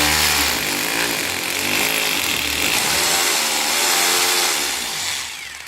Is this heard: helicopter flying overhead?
no